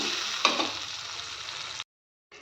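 Tomato masala for a rock-fish dry-fish curry is stirred and sizzling in a pan: a steady broadband frying hiss with a spoon scrape near the start, then a sudden cut to silence and a brief return.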